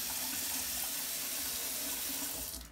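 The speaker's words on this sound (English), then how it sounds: "be sure you rinse really good" Water runs steadily from a tap into a sink for rinsing, a loud, close, continuous hiss and splash with no talk over it.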